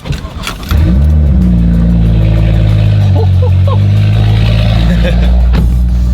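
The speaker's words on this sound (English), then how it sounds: "Go out for a rip in the M2 because Alex hasn't driven it in quite some" A BMW M2 engine fires up and revs, then holds a loud, steady drone with rising harmonics as the car accelerates close by.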